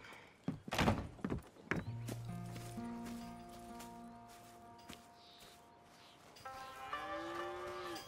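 Cattle on a ranch in Red Dead Redemption 2 let out a long low moo and then other lowing calls, following a few sharp thunks and knocks at the start, with no talking.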